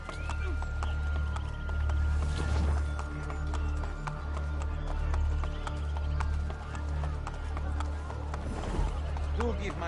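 Horse hooves clip-clop at a steady pace in Assassin's Creed Brotherhood, running continuously under in-game voices and a low ambient game soundtrack.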